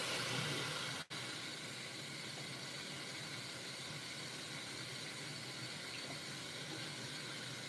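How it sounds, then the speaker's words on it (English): Tap water runs steadily into a sink while hands are washed, a close, even hiss that briefly cuts out near the start and then continues unbroken, with no talking. "time to wash hands again"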